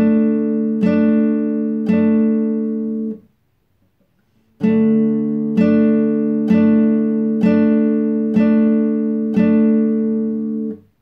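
Acoustic guitar down strums play a TV show's main theme: three bright, ringing chord strikes, a short silence, then six more evenly spaced strums, each decaying before the next, with no speech.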